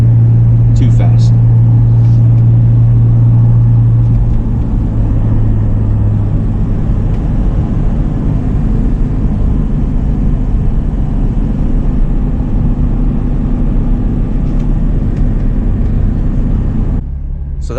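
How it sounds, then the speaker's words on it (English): A Volvo 242 GT pulls uphill in third gear, its engine giving a steady, loud droning rumble under road noise from inside the car, with someone talking over it. "In 3rd gear, climbing up this grade, still gaining speed."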